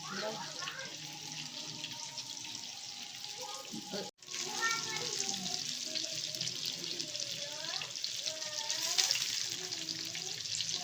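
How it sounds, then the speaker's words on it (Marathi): Semolina-coated fish frying on a hot griddle, with a steady close sizzle running throughout, a brief cut partway, and people talking over it. "रवा लावून घ्या आणि नंतर दव्यावर तळून घ्या"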